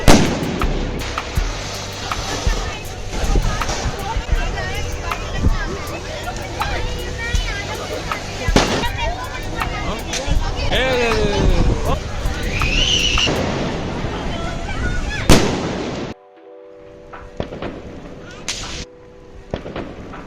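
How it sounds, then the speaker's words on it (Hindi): Firecrackers burst repeatedly at a Diwali celebration, sharp cracks and pops scattered among crowd chatter and voices, then the noise cuts out abruptly near the end leaving a quieter tail. "People were just bursting crackers like crazy, absolutely crazy."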